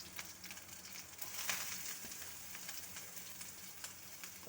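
Green chilies and coriander leaves sizzle in hot oil in a pan, a soft, steady frying hiss with small crackles and pops, faint and close, with no talking.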